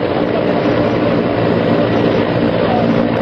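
Helicopter hovering over the flooded Tavi river during a rescue: a loud, constant engine and rotor drone fills the whole stretch without a break.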